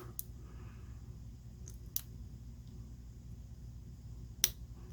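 An American Lock Co. Series 1100 padlock being picked, its pins giving off a few sharp, isolated clicks spaced irregularly over a quiet, faintly humming background.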